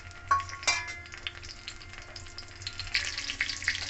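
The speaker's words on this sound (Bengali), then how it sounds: "তেল গরম হয়ে গেলে আমি দিয়ে দেবো এখানে দুটো তেজপাতা কাঁচা লঙ্কা পাকা লঙ্কা শুকনো লঙ্কা" Bay leaves with green, red and dry chillies frying in hot mustard oil for a vegetarian taro leaf dish, a steady soft crackle with a few sharper pops and stirring clatters near the start.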